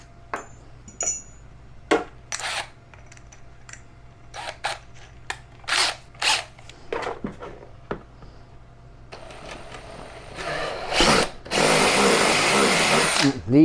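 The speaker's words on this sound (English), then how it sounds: "I'll kind of push it into the hole there, and then I'll hit it with the drill." A handheld power drill reams out the drain hole of a grow tent container, firing in repeated short bursts and then a longer sustained run near the end, loud and close, with scattered clicks and handling noise between.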